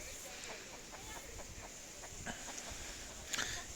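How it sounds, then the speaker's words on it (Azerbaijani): A startled rooster gives a few short clucks in an outdoor garden in Xaçmaz, faint and distant against a low background hiss, with a louder squawk near the end. "Qorxdu xoruz."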